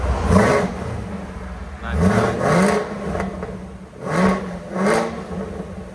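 A stock-exhaust 2020 Chevy Camaro ZL1 revs repeatedly nearby, its engine swelling and falling in several throttle blips with a deep rumbling exhaust note.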